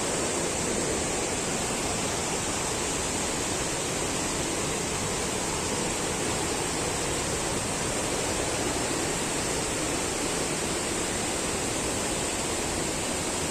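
Swollen river in the Balangoda area, high after extra water, rushing in a steady, loud, broadband roar that holds constant throughout with no voices over it.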